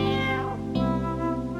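A Christmas cat named Jingles gives a drawn-out meow that bends in pitch partway through, close and fairly loud, with no talk.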